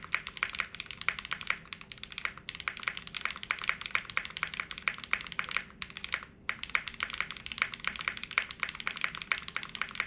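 Rapid, continuous typing on a Zoom65 V3 keyboard with a leaf spring mount, crisp clacky keystrokes with a slightly metallic edge in dense bursts, close and clear, broken by two brief pauses.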